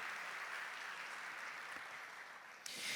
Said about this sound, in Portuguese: Uma salva de palmas para a Virgem Maria